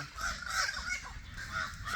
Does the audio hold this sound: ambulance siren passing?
no